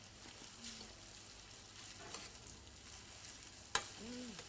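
Spaghetti alla napoletana sauce is stirred in a pan, a low, steady sizzle and bubbling, with a sharp scrape of the utensil near the end.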